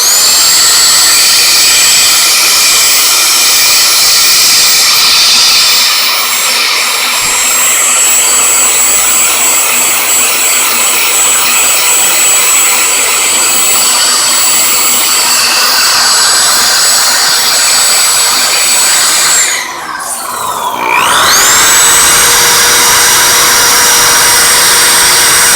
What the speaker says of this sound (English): I decided to use my drill. I put a brush on the end of it.